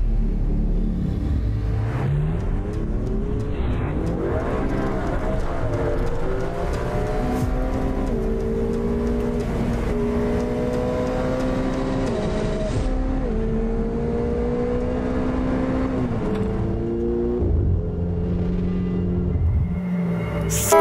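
A Ferrari F8 Spider is driven hard, its engine revving up through the gears in repeated rising pulls with brief dips at each shift. The loud, close exhaust howl continues throughout.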